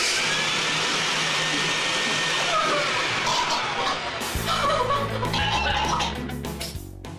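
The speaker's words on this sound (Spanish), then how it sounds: "voy arriba con la aspiradora a remolque" A household vacuum cleaner pulled along on its hose upstairs runs with a steady, loud whine. Partway through, the tone shifts and a series of sharp knocks and clatters breaks in over the drone.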